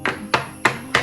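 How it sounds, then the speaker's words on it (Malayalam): An onion is chopped into small pieces with a knife on a board for an Arabian-style madhooth: four sharp, close chops, evenly spaced about a third of a second apart, with nothing else heard. "ഉള്ളി നമുക്ക് ചെറുതാക്കി വരികയാണ്"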